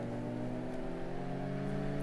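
Engine of an early-1990s Toyota Celica GT4 ST185 in the Assetto Corsa driving game, a steady droning hum held at constant revs throughout, fairly loud and with no talk over it.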